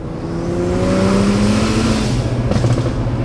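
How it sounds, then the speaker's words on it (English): A BMW car accelerates through a third-gear pull, the engine tone rising quickly and loudly before a sudden shift or lift near the end, with a rougher burbling note after. "Here's a 3rd gear pull because I don't have my GoPro."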